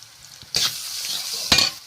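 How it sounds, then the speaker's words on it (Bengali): Green chillies, salt and turmeric tipped into oil for a crab curry, sizzling steadily with two sharp bursts of frying and stirring, close and moderately loud, no talking. "চারটে থেকে পাঁচটা কাঁচা লঙ্কা ছেড়ে দিয়ে দিচ্ছি স্বাদ মতো লবণ দিয়ে দিচ্ছি পরিমাণ মতন হলুদ দিয়ে দেবো এক চামচ"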